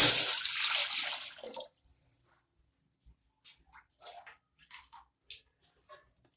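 Water pours into a cooking pot in a steady rush for over a second, then stops, leaving scattered small drips and clinks.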